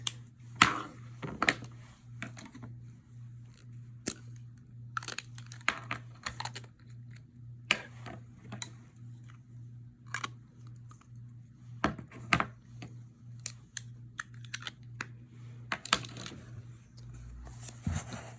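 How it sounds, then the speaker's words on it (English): A Leonardo Momento Zero fountain pen with a stub nib writing on paper, giving a long series of faint, irregular scratchy taps and clicks under a low steady hum. "So we'll do the obligatory writing sample"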